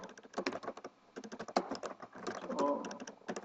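Rapid clicking keystrokes on a computer keyboard while writing a code comment in C#, close and crisp in irregular bursts with short pauses.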